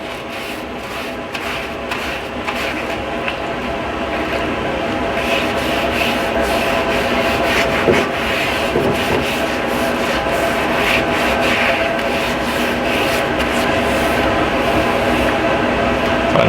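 Sponge with warm soapy water scrubbing a new Pit Boss cast iron griddle, a steady close rasping rub that runs without pause and grows slightly louder as it goes.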